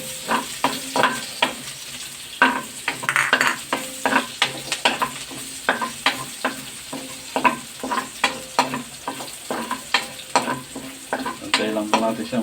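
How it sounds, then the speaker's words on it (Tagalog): Garlic sautéing in a pan of oil left over from frying pork leg, a constant sizzle broken by a steady run of spatula scrapes and clinks against the pan, no talking. "Ito na rin po ako mag-igisa sa ating pinagprituhan"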